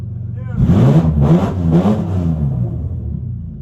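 A BMW E36 car engine starts and revs, a loud, close mechanical roar that climbs and falls through a few revs before settling into a lower steady drone.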